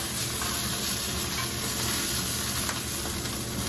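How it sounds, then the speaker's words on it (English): Bratwurst sizzling in a griddle pan, a loud, steady, dense frying crackle and hiss that continues unbroken throughout, close up with no talk. "so we're just going to let these sizzle for a few minutes, flip them over, and we'll have a nice golden brown bratwurst."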